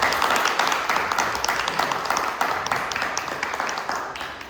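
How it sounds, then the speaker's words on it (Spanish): Audience applause at a recital and talk in a cultural centre in Rancagua, honoring Gustavo Gac. Dense, lively clapping holds steady throughout, close and fairly loud, fading slightly toward the end. "Un aplauso para él."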